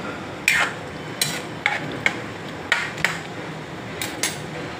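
Spoon scraping and clinking in a pan while cashews, whole spices, Kashmiri red chilli and tomatoes are mixed, a few sharp metallic taps spaced irregularly over a quiet background, no talk.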